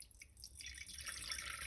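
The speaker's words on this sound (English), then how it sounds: "put the water right into the container" Water pours into a large old Pyrex glass container in a home kitchen, a quiet, close trickle and splash that builds steadily over under two seconds with no talk.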